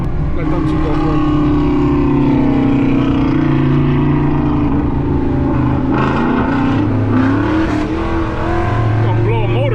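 Ford Mustang engines, a 2020 GT500, a 2019 twin-turbo GT350 and an E85-fuelled car, rev together in a loud, steady drone with rising pitch, while people shout and talk over the noise.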